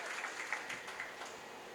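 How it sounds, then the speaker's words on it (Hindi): An audience at a Hindu religious discourse (katha) in Vrindavan claps, a faint, distant patter of applause that stays even and soft throughout. "एक बार अपने अपने लिए आप लोग ताली बजाओ।"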